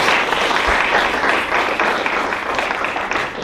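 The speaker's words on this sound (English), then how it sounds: "You joined one more round of applause for Derek" An audience at a monthly LA2M meetup talk gives a steady, dense round of applause for the speaker Derek, close and continuous from start to finish.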